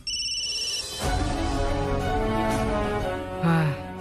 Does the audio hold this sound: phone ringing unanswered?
yes